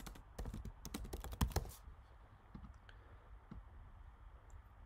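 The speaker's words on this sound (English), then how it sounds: "We have a notepad, and we can type in whatever we want in the keyboard." Typing on a computer keyboard during a demo of the original Mac OS notepad, a quick cluster of sharp key clicks up close, then a few sparse, quieter taps as the typing trails off.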